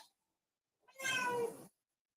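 A single drawn-out meow from a pet cat, close and clear, lasting under a second amid otherwise quiet surroundings.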